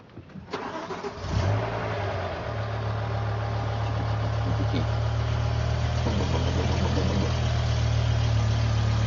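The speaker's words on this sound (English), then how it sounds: "on tick-over, it can sound a bit rough." A BMW M5 (E60) V10 engine cranks and catches, then settles into a low, slightly rough idle that hums steadily and close by for several seconds.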